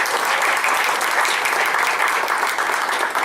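An audience at an arts benefit event for veterans claps for a presenting sponsor, a full, steady round of applause from many hands, loud and sustained for the whole moment.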